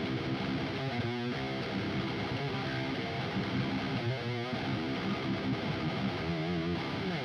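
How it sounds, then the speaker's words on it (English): A dense, distorted metal guitar riff with fast, relentless alternate picking on low notes, loud and continuous throughout with no voices. "it's just a very aggressive alternate picking style riff"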